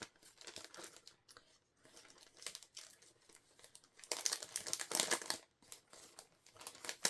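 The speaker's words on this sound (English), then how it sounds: "So I'm cutting off the sticky part here at the top" Scissors snipping through paper in a craft journal, a series of crisp, close cuts and rustles in irregular bursts, loudest toward the end, with no voices.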